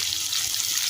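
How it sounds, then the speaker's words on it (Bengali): Spice-soaked water poured into a cooking pan where peas and ground masala are being fried, a steady close hiss and splash of liquid lasting under a second, with no voices. "যে মশলাটা আমি বানিয়ে রেখেছিলাম সেই জলটা আমি এখানে দিয়ে দিচ্ছি।"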